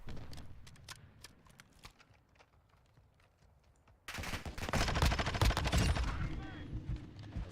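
Long-range gunfire in Call of Duty Modern Warfare 2 crackles in quick bursts, faint sparse shots first and then a dense, louder stretch of rapid fire.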